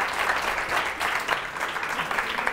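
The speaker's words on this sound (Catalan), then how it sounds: "tens, això ja t'ho garanteixo, aquest aplaudiment" Applause from a studio audience on a Catalan television quiz show, a steady wash of many hands clapping at a fairly even level throughout, with faint voices mixed in.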